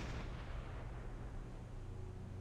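A submarine deck gun fires a broadside shot in the Silent Hunter 5 naval game, a single heavy boom that opens sharply and then rolls into a long, dense low rumble, loud and alone.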